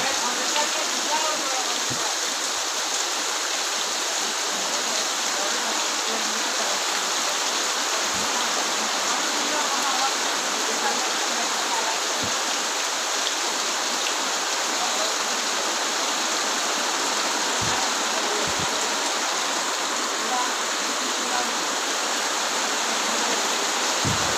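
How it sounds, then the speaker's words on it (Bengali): Heavy rain pours steadily over a market area in Feni's Parshuram, a dense, constant hiss that stays loud and even the whole time, with a few faint low thumps underneath. "শুধু বৃষ্টির ঝনঝন শব্দ"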